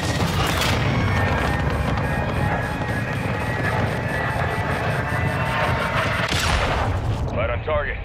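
Cruise missile strike in a shooter video game, with a dense rumbling barrage of blasts and gunfire that stays loud and continuous, and a brief lull near the end.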